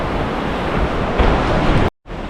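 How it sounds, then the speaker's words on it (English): Strong wind rushes through a valley in Torres del Paine, Patagonia, a steady, loud roaring gust that blasts the microphone, briefly cutting out before resuming. "enjoying the wind"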